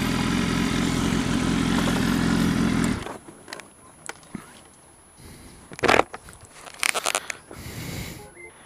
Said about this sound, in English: 2016 BMW S1000RR Sport with a performance pack.